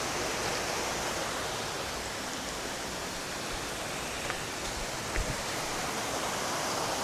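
A waterfall at a natural swimming spot cascades continuously, a dense, steady roar of falling water filling the whole stretch, close and loud with only slight variation.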